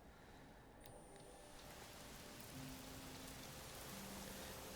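Steady rain in the video game Horizon Zero Dawn Remastered hisses in a dense, even wash, with faint tonal hums underneath and no voices.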